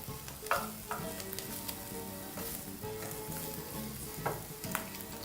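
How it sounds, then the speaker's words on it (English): Bacon frying and crisping in a hot pan gives a steady close sizzle with occasional louder pops and spatters throughout, and no voices. "allow your bacon to now just absorb the heat from the pan and really get crispy"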